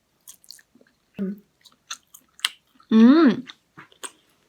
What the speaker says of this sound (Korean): 중국 간식을 먹어볼게요.